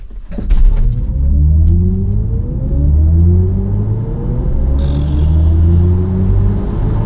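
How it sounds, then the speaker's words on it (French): A BMW i4 M50 electric car with 544 hp, in sport boost mode, accelerates hard from 0 to 80. Its rising electric motor whine climbs steadily in pitch over a loud, close road rumble. "On va tester un 0 à 80, on met le mode sport."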